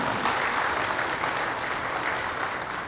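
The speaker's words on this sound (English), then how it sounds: "energized round of applause" Audience at a corporate event gives a brief, energetic round of applause, dense and steady clapping throughout.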